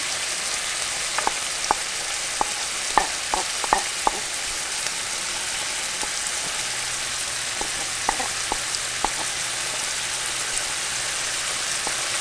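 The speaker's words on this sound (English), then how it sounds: "So we are going to now add our sauce." Teriyaki sauce hitting a hot pan of chicken sets off a continuous, even sizzle, with scattered light taps and scrapes from stirring spread across it.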